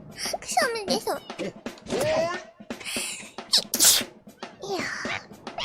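Repeated close sneezes from a Vtuber character that cannot stop sneezing, sharp loud bursts near two, three and four seconds, mixed with voiced sounds and brief speech.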